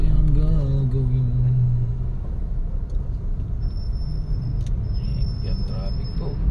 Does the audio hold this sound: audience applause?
no